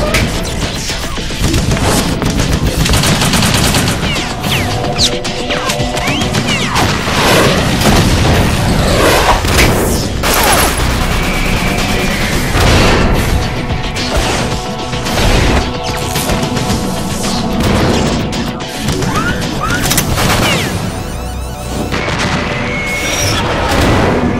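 P90 gunfire and explosions in the video game Metal Gear Solid 2 on PS3: loud, dense bursts of shots, booms and crashing impacts that continue almost without pause.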